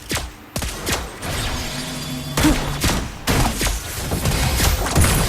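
Lesley fires repeated sharp gunshots in the Mobile Legends game, with several punchy cracks and thumps over a dense, busy battle din.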